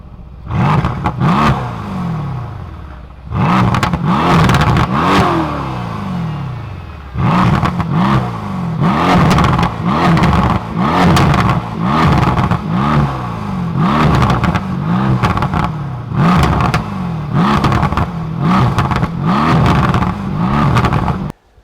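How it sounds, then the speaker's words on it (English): A 2018 Mercedes C63s AMG on its stock performance exhaust is revved in a rapid series of loud, snarling bursts separated by short pauses, heard close up and alone. "a symphony of beautiful car engine noises that you'll ever hear from a stock performance exhaust on a car"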